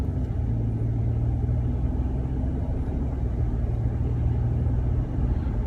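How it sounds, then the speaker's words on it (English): A car's turbocharged engine rumbles in a low, steady drone heard from inside the vehicle, a constant droning hum with no speech over it. "I hear the turbos. I'm just listening to turbos right now."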